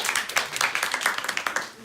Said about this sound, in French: Excellent, bravo, on les applaudit.